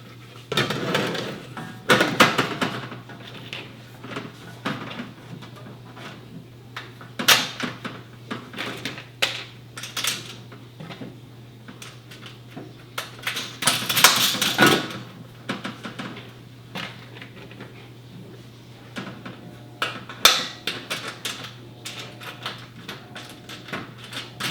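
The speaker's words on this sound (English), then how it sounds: "I'm going to go ahead and pop open the bag of nuts," A plastic bag of metal nuts, bolts and washers for a raised garden bed kit is torn open and sorted, giving irregular rustling and clinking bursts of loose hardware close by, with a steady low hum underneath.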